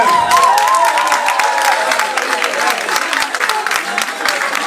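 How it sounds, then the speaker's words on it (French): A crowd at a concert by a religious group in Belgium claps and cheers loudly, with dense, sustained applause close up and a voice sounding over it at the start. "Applaudissez pour vous-même."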